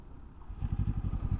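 The petrol engine of a 2024 Kawasaki Ninja 7 Hybrid motorcycle fires up partway through, a low, throbbing pulse at low revs under light wind noise on the road.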